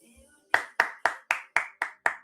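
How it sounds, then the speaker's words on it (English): Seven sharp, evenly spaced hand claps from a single nearby person ring out after a brief quiet moment, each crisp with a short ringing decay, in applause for Emmanuel during a live trading stream. "Hands of applause for Emmanuel"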